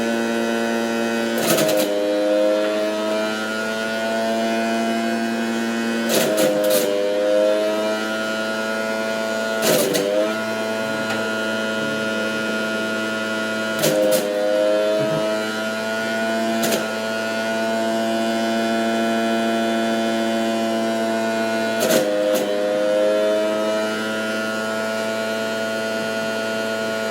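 A juicer motor runs steadily while fresh fruit and vegetables, including carrots, are pressed into juice, giving a constant whine with harmonic tones and several brief louder bursts as produce is fed in, with no talking.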